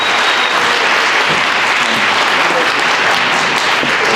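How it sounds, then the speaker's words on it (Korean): A crowd at a Black Combat fight event applauds loudly and steadily after the bout, a dense continuous wash of clapping throughout. "멋진 경기를 보여준 공주목 선수께 큰 박수 부탁드리겠습니다."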